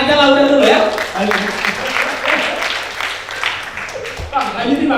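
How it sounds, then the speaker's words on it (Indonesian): Audience applause at a scholarship grand launching event, fairly loud and sustained, mixed with overlapping talk and some tonal background sound throughout. "mau tepuk tangan aja lah"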